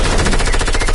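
Rapid video game machine-gun fire, a loud, dense burst of shots lasting about a second, close and alone.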